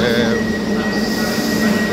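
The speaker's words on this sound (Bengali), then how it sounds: "আবার সে মেট্রো ধরতে হবে, মেট্রো করে বাড়ি যাব" A Barcelona metro train in an underground station gives a steady loud rumble with a high squealing whine from the wheels, echoing in the enclosed space, with no clear speech.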